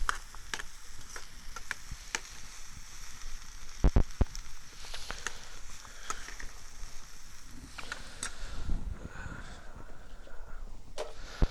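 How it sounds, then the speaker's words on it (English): Vegetables browning in a pan crackle and sizzle with irregular sharp pops and clicks from stirring utensils, fairly close, with busier scraping and crackling toward the end. "So just browning this veg off"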